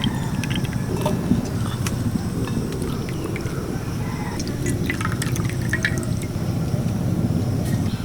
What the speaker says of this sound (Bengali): এবার আমি জলটা নিংড়ে নেব আর এই সয়াবিনগুলো নিংড়ে নিয়ে